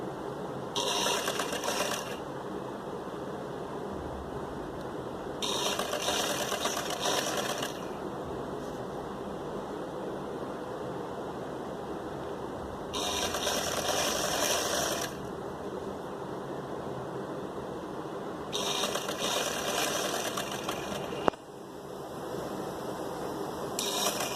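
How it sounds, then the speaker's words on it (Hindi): Electric sewing machine stitching a suit in four separate bursts of steady, rapid whirring, each lasting a couple of seconds, with quiet pauses between them and a sharp click near the end. "हम सिलाई लगाते जाएंगे।"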